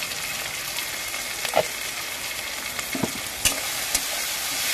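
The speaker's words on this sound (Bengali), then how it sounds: "দেখুন আমার মশলাটা একটু ভাজা ভাজা হয়ে গিয়েছে।" Ground spices fry in a pan for a fish curry with a steady broadband hiss, broken by a few sharp clicks and scrapes as a spoon stirs them.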